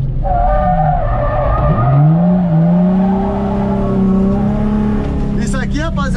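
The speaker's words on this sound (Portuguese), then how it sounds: "Vamos aquecer no pneu." Tires of a Nissan 350Z skid and squeal during a tire warm-up on a race track, a loud, steady screech with engine tones running throughout while people talk over it.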